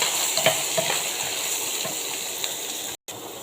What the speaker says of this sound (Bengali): ভালোভাবে ভেজে নেব লাল করে।